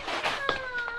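A cat meows in a German radio play about a tomcat, a short voiced cry with a rising and falling pitch, heard fairly close over a soft background with faint voices.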